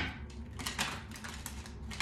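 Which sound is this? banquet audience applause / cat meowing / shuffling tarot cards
shuffling tarot cards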